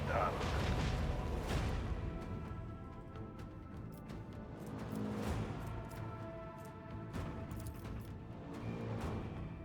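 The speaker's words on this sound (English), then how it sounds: "Macro cannons, annihilate them." Macro cannons firing in a space battle video game, heavy booming bursts rolling one after another across the clip under a steady rumble, with game sounds layered in the mix.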